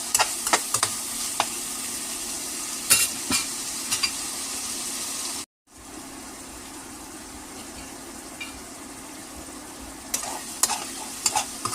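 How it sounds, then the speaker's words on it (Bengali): Tomatoes fry and get stirred in a pan for a village-style beef pasta, a steady close sizzle with scraping stir strokes and a brief gap of silence midway, no talk. "আর টমেটোটা দেওয়ার পর কিন্তু আরো 2 মিনিটের মতো আমরা ভেজে নিব।"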